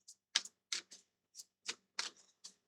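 A deck of tarot cards being shuffled by hand produces a quiet, close series of about nine short, crisp papery bursts at an uneven rhythm, with no talking.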